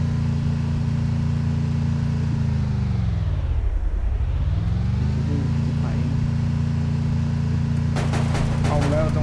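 A car engine drones steadily while driving in a zombie video game, its pitch dipping low and rising again as the car slows and speeds up, loud throughout, with sharp clatters near the end.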